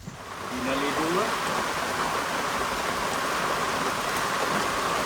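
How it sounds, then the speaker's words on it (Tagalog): Sudden heavy rain pours down at a house under construction, a dense steady hiss that swells within the first second and stays loud throughout, with faint voices beneath. "Grabe, biglang ulan."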